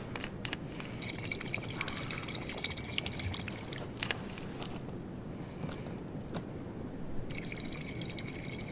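Clean water pours and trickles into bottles in Life is Strange 2, a steady liquid fill with brief splashes, running on for several seconds with no talk over it.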